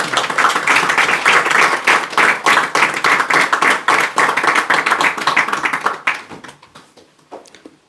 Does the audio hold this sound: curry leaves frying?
no